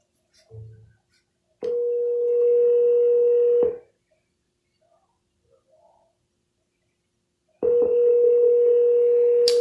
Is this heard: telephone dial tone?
yes